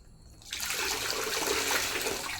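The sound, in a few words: water being poured over a head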